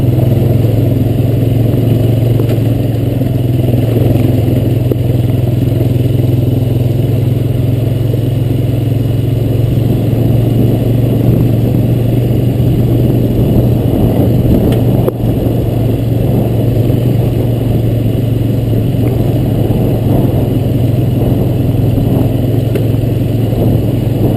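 Honda Recon ES four-wheeler ATV climbing a steep hill on a dirt road, a loud, steady engine drone with a strong low hum and continuous rumble, close and unbroken for the whole stretch.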